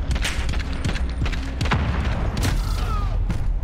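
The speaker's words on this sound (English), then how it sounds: "Smoke grenade near me. Then grenade." Gunfire and a deep explosion boom in the video game Modern Warfare, with loud rapid shots and thuds filling the short burst of combat.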